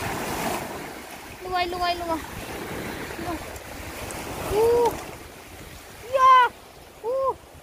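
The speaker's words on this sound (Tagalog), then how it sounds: "Ang bilis ng tubig." Fast-flowing floodwater rushes as a steady broad hiss and roar, with wind in the background and people talking and calling out over it.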